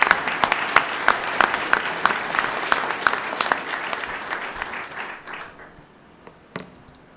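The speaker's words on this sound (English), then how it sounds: "let's give them another round of applause." A crowd at a governor's flood recovery announcement gives a hearty round of applause for local mayors; steady clapping with sharp individual claps fades out after about five seconds, leaving a few stray claps.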